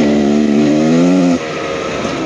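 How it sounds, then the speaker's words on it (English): A 2023 Beta Xtrainer 300 two-stroke enduro motorcycle engine revving up loud and close, pitch climbing steadily before dropping off abruptly into a rough burbling idle. "I love the two-stroke!"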